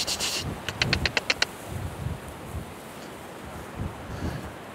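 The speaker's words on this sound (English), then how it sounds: "This wind's making it really difficult." Wind gusts buffet the microphone outdoors during gundog training in an open field, a rough, continuous rumble rising and falling in low bursts, with a short series of sharp high clicks early on.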